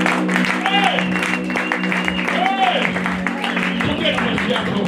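A church congregation claps for the Lord during a Christmas service, a dense, steady wash of applause blended with keyboard music and singing throughout.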